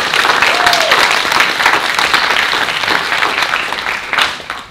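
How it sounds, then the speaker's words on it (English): Marching band members and dancers applaud themselves in a dense, loud burst of clapping, close and sustained throughout with a few voices faintly mixed in. "So clap it up for yourselves one time."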